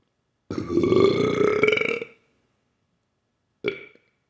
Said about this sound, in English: almost all of the humor in that film is based around burps, and so I will demonstrate one of those for you.